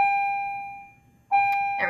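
A doorbell-like electronic bell chimes twice, a clear sustained tone that fades out before a second strike rings, with a brief voice near the end.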